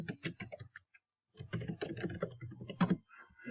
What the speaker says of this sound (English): They type it in up at the top.